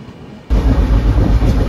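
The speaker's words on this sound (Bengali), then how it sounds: "ট্রেন কালনা ছেড়ে দিল, অম্বিকা কালনা রেলওয়ে স্টেশন" A train leaves Ambika Kalna railway station, cutting in abruptly as a loud, close rumble with a dense, steady roar of wheels and carriage noise.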